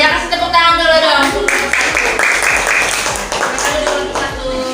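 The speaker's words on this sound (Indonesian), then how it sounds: "Ya, kasih tepuk tangan dulu dong." Classroom group claps for classmates who just presented, a scattered, uneven patter of hands that continues steadily while voices chatter over it.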